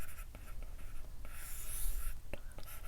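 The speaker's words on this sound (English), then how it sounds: "I will write" Marker or chalk strokes on a board while working through code for an odd-even linked list problem, a run of short scratchy strokes, close and fairly quiet, with no talk.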